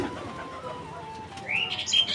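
Pet pigeons make soft, faint cooing and chirping calls close by, with brief brighter chirps near the end and a quiet murmur of background voices.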